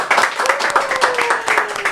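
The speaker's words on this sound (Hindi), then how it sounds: "जोरदार ताली बजा दें।" Studio audience clapping during a Hindi talk show, a loud, close burst of dense applause with a rhythmic, brisk texture lasting a couple of seconds.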